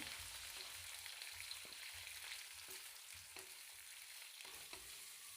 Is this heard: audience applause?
no